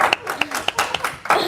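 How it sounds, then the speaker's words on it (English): A seminar audience claps to welcome newcomers. The sharp claps come in a loose rhythmic run, mixed with cheerful voices close by. "Let's give them a clap."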